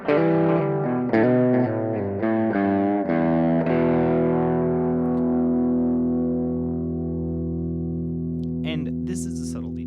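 An electric guitar runs through a Boss GX-10 multi-effects unit, playing a run of distorted notes and then a sustained ringing chord; the repeating echoes carry only the clean guitar tone and fade slowly beneath it.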